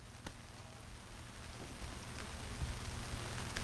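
Steady rain falls over an outdoor baseball game, a soft, even hiss of drops with faint scattered patters throughout, no talking.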